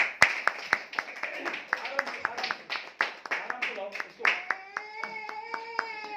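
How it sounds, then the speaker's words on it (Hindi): Scattered, uneven hand claps from a few people nearby, sharp and irregular, with a voice rising in over the last claps. "एक बार ताली बजाओ जोरदार"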